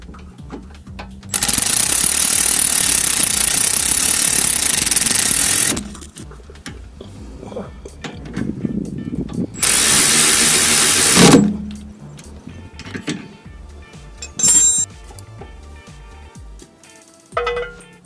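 Power tool bolting up a car brake caliper in a garage: two long, loud bursts of rattling impact, then shorter bursts, separated by quieter pauses with faint clinks and background noise.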